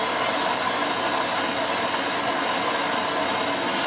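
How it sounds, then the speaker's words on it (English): A propane or MAP gas torch roars continuously while heating an AR15 extension tube, a steady, even hissing flame held close throughout with no pauses. "Get yourself a propane torch or a MAP gas torch. Heat this thing up."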